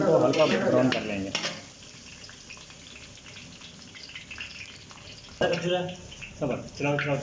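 Garlic fries in oil in a pan for a green mutton dish, giving a soft steady sizzle with stirring scrapes, while a voice talks over the start and end.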